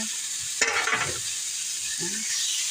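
Pork shoulder goes into a hot pan and fries with a steady bright sizzle, while a utensil scrapes and stirs briefly near the start and again toward the end.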